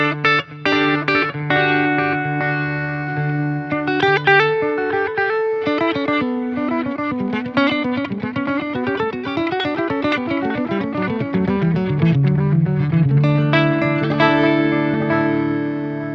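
Electric guitar run through a Way Huge Supa Puss analog delay pedal set to maximum delay time, with picked notes and chords trailing long, repeating echoes that pile up into a dense, continuous wash with no talking.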